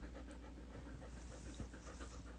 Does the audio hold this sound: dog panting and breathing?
yes